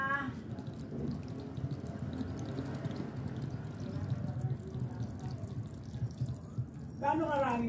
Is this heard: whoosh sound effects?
no